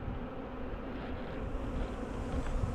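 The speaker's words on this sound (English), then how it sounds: "All the bees are just piling back, coming back from everywhere." A swarm of honeybees hums continuously as they return to their hives with rain coming on, a dense near buzzing that swells slightly toward the end over a low background rumble.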